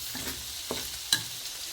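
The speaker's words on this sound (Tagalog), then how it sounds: "Oh, yan, nagigisa na tayo." Onions sautéing in a pan sizzle softly while a spoon stirs them, making a couple of distinct scrapes and clinks.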